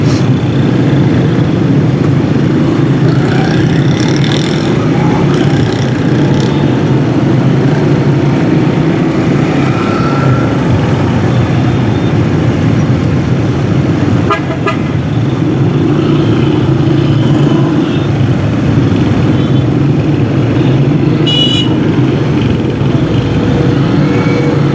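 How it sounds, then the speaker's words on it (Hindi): Heavy traffic on Shahra-e-Faisal, a dense continuous roar of car and motorcycle engines passing close by, loud and steady throughout with occasional higher revving bikes and a brief horn-like tone. "भले ट्रैफिक जाम है लेकिन ट्रैफिक चलती रहती है।"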